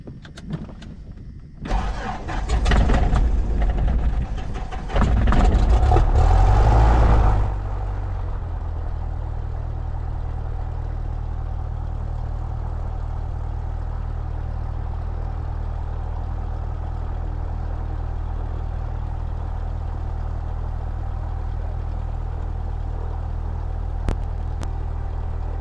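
A Cessna 172 engine at Camden Aerodrome, NSW, Australia cranks and catches in a loud burst for about six seconds, then settles into a steady, low, droning idle that runs to the end.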